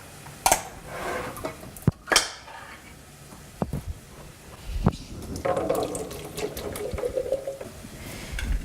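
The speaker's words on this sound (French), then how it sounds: "on va égoutter les haricots rouges et le maïs" Canned red kidney beans and corn are drained in a kitchen: liquid trickles and splashes into a sink with a few knocks and clatters of cans and utensils, moderately close, ending in a longer steady pour.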